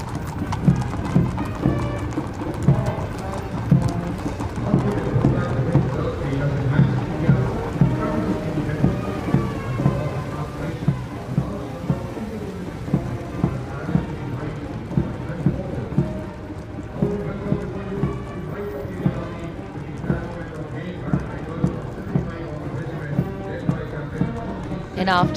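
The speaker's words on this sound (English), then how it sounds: "after the clip-clop of the horse hooves on the tarmac" Parade horses at India's 2023 Republic Day march on tarmac, their hooves clip-clopping in a steady, regular rhythm throughout, with a commentator's voice running over them.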